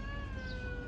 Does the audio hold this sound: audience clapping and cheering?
no